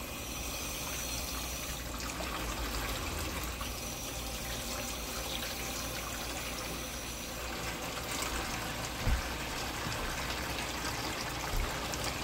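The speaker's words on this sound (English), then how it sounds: "We're gonna put some water in here." Tap water running into a hydroponic strawberry-growing unit sitting in a sink, a steady rushing stream of moderate level that continues throughout, with a couple of faint knocks near the end.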